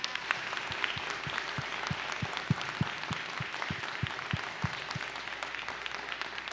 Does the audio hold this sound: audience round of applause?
yes